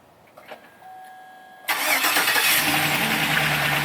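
A 2007-2013 Chevrolet Silverado fires up by remote start: a faint click and chime, then the cranking engine catches abruptly and settles into a loud, steady idle close by, with no talking.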